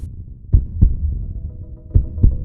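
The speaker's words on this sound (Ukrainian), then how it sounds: "Так лунає звук серця." A deep, muffled heartbeat thumping in paired beats, two double pulses separated by a pause, over a low throbbing hum.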